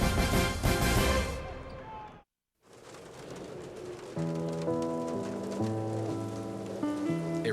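Rain patters loudly and steadily in a TV commercial, then stops for a moment of silence and gives way to gentle music with a soft voice.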